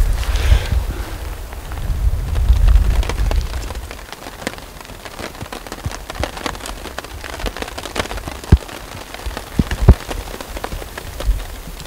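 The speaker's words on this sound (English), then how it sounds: "It's hailing right now." Hail pelts the ground in open mountain country near a creek, a dense steady patter with heavier rumbling early on and scattered sharper hits later, no voices.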